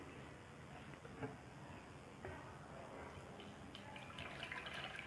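Whey from chena pours through a soft cotton cloth laid over a colander, giving a faint, continuous watery trickle with small drips throughout.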